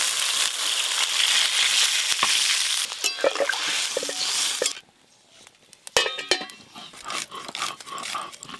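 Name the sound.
pouring water into a pot of taro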